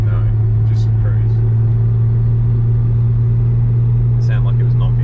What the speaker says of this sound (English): It sounded like it was knocking.